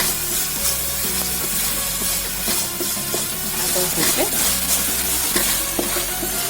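Vegetables with a little turmeric fry and sizzle in a pan for quinoa veg pulao, a steady loud hiss with scraping stirring strokes running throughout.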